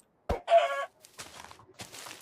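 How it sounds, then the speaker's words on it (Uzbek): A brown chicken in Minecraft gives a short burst of game clucks, followed by quieter, scattered clucking sounds, close and clear with no talking. "Jigarrang tovuq topdim."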